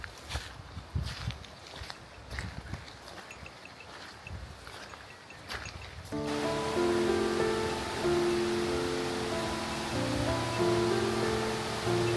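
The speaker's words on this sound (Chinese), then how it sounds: "前边有一条水流特别急的小溪，是雪山上的积雪正在加速融化吧。" A fast, snowmelt-fed mountain stream rushes steadily in the forested highland wetlands of Kamikochi, first faint and mixed with footsteps and rustling, then a loud continuous close-up roar of churning water.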